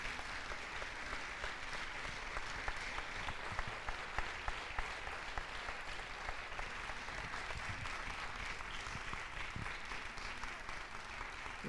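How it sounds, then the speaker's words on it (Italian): Steady audience applause for cyclist Ivan Basso at a sports business forum, dense clapping holding at an even level throughout with no voices on top. "Facciamogli un applauso"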